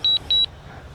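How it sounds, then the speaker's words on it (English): Two sharp high-pitched electronic beeps from a DJI Mavic 2 Pro drone controller in quick succession, each lasting about a tenth of a second, followed by quiet background hum. "Do apologise for the beeping."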